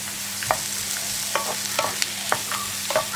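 A sprig of curry leaves frying with onions, tomatoes and turmeric in a pan for onion chutney, heard as a low steady sizzle broken by sparse sharp clicks and scrapes of stirring, with no talk.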